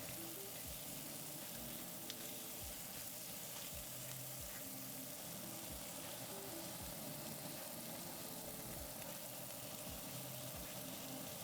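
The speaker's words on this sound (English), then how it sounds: "This is gonna be so much fun to deglaze." A pan of pork ragu sizzles steadily while being deglazed, a dense continuous frying hiss with scattered crackles and low bubbling knocks running evenly throughout, close and moderately loud, with no talking.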